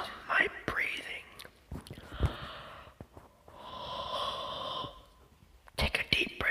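Close, soft ASMR breathing with deep breaths drawn in and let out, airy and whispery, interspersed with small mouth clicks and snort-like noises.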